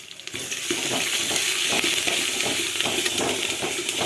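Crushed garlic frying in oil for pepper rasam gives a steady, loud sizzle close by, with occasional stirring clicks and no voices.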